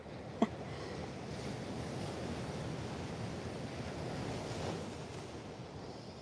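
Steady ocean surf rolls onto a beach at sunrise, a soft continuous wash of waves with light wind noise, fairly distant and calm.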